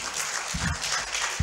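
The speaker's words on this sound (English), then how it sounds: "you deserve that round of applause" Brief, faint round of applause from attendees at a training session on combating human trafficking, a short burst of scattered clapping.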